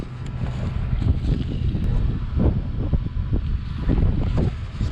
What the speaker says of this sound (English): Got a nice wind right now.